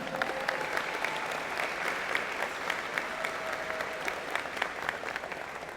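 An audience at a college engineering convocation claps in a long, steady round of applause, many hands making a dense, even patter with sharper individual claps standing out, no speech over it.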